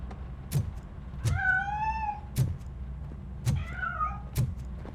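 Two drawn-out, rising-and-falling cat meows from the video game RoboCop: Rogue City, moderately loud, punctuated by several sharp clicks or taps in between.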